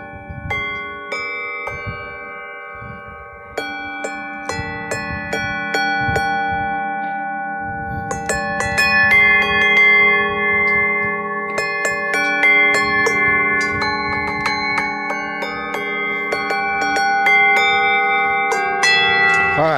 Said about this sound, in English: There's a little bell thing and a little mallet thing.